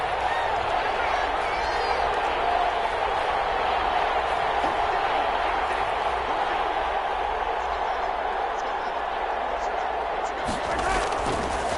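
A stadium crowd in a Madden football video game roars steadily throughout, a dense, continuous wash of cheering and noise as a big third down approaches.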